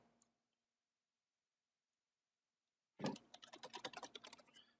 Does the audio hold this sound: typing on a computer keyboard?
yes